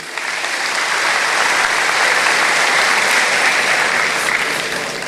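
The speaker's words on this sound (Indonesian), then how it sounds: "Tepuk tangan dulu" A congregation at a church revival service applauds, a loud, dense and continuous wash of clapping holding steady throughout.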